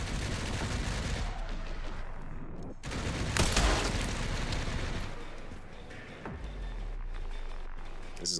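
Enemy gunfire in Resident Evil 9, a steady barrage of shots with a sharper crack partway through, loud and continuous over the game's din.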